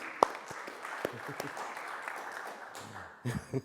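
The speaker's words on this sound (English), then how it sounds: "Round of applause for Kai Bird, please." Applause from an audience at an author's book talk, fairly quiet and scattered, with a few sharp claps and some voices near the end.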